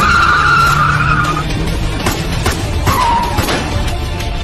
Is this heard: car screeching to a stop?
yes